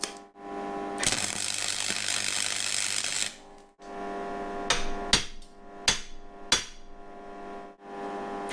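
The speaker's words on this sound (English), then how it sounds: "gentle taps with the hammer before tacking them in place" Sharp metallic hammer taps on reclaimed steel bars, a handful of separate strikes spaced irregularly, following a burst of loud broadband grinding noise, while fabricating a chin-up bar.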